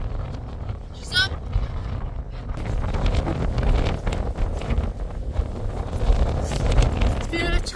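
Gale force wind buffets the microphone at a wild camping spot, roaring in loud, gusty surges that build and stay strong throughout, with flapping bursts now and then.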